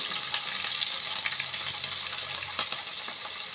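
Garlic, ginger and shallots fry in hot oil in a pan for a prawn curry, giving a steady, close sizzling hiss with small crackles throughout, no voices.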